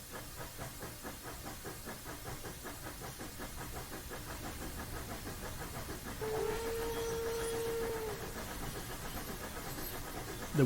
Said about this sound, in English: The whistle's certainly a bit wrong